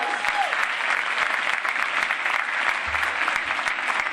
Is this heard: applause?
yes